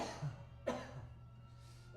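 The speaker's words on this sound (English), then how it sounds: "don't need to be coughing into your ears" A single short cough, close and fairly soft, over a low steady background hum.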